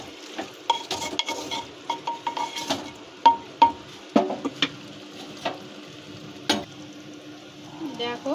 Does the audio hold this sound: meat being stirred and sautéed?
yes